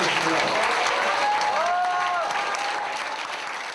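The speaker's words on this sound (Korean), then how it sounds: "다시 한번 힘찬 박수 부탁하겠습니다." Wedding guests applaud steadily right after a couple exchange vows, a dense wash of clapping from the crowd with a few sustained musical tones rising through it.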